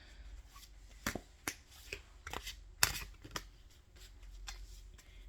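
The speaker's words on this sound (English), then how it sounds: "I'm curious to know how anyone else shuffles this deck." Cary-Yale Visconti tarot cards being shuffled by hand, giving a series of separate crisp riffles and snaps spread over several seconds, close and fairly quiet, with no talking.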